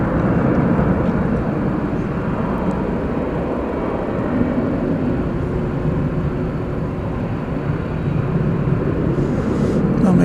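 A Boeing 767-300 freighter jet roars steadily at DFW airport, a loud, broad continuous rumble with no clear breaks, heard from some distance outdoors.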